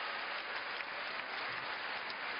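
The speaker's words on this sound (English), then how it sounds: "The crowd here at the de Coubertin Stadium on their feet. He thanks the crowd for their support. A standing ovation." Sustained applause from a standing crowd at the Stade Pierre de Coubertin in Paris after a French Open badminton final, a dense, steady wash of clapping that stays loud and even throughout.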